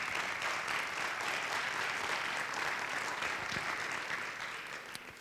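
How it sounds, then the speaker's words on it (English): A school concert audience claps continuously in a dense, steady wave of applause that fades slightly near the end. "a big round of applause for Mr. Stu Ferris."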